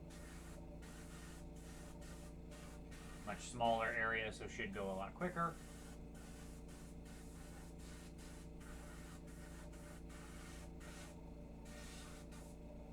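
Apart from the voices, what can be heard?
spray paint aerosol spraying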